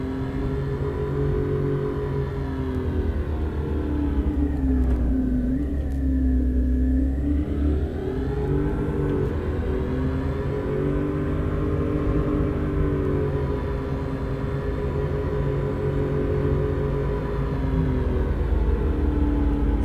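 A simulated Cadillac car engine in Euro Truck Simulator 2, driven in first gear, gives a loud, steady drone that rises and dips in pitch as the revs change, with no talk over it.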